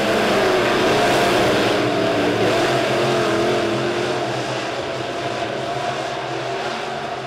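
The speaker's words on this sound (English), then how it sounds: "Bill Schahuber is going to have to pedal hard if he's going to stay ahead of that number 11 car of Thompson." USRA B-Modified race cars roar around Springfield Raceway during a heat race, a loud continuous engine drone from the pack that fades slightly as the cars move away.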